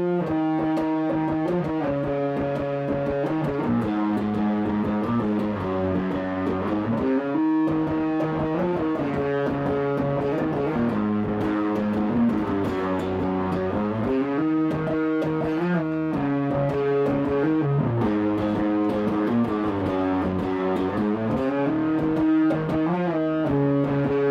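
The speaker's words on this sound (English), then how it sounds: "it sounds pretty good with that kind of low pass distortion" A bass guitar plays a continuous riff through a COG Effects Knightfall distortion pedal, thick and fuzzy, notes running together in a dense, growling tone without pause.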